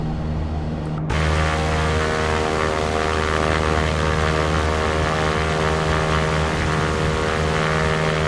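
A propeller-driven fixed-wing aircraft in X-Plane 11 rotates and lifts off, its steady engine drone thick with harmonic hum, jumping suddenly louder after a second of quieter idle and then holding a constant roar.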